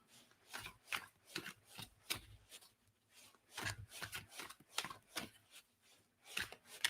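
Cards being shuffled by hand during an intuitive reading session, a series of soft riffling bursts and rubs in an irregular rhythm, close and quiet with no talk.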